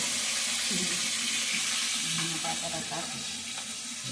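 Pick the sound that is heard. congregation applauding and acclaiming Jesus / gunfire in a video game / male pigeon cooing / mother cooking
mother cooking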